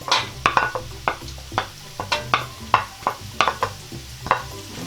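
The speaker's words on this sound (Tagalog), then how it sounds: "Igisa lang po natin hanggang sa mag-golden brown po yung ating bawang" Garlic sautés in hot oil in a pan beside pieces of fried pork for Visayan ginamay, with a steady sizzle under repeated sharp scrapes and knocks of a spatula stirring against the pan.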